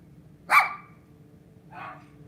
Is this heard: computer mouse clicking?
no